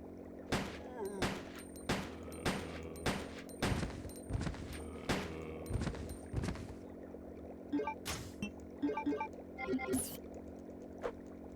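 Gunfire rings out in the video game Resident Evil Code Veronica X: a steady series of sharp, loud shots about every half second, then a few scattered bursts and clicks, over a low game-music drone.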